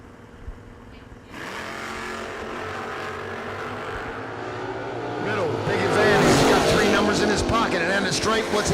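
Drag racing cars at a bracket racing event, one a newer-style Camaro, rev and launch with a loud, swelling engine roar and tire noise that builds after a quiet start, with an announcer talking over it.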